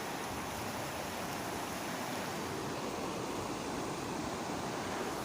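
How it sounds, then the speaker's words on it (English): A waterfall in Germany's Black Forest roars as a steady, dense broadband rush of falling water, loud and unbroken throughout with no voices. "Look at the waterfalls."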